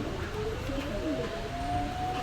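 A pair of Pakistani pigeons cooing softly at a shop, a faint drawn-out tonal coo over steady low background noise.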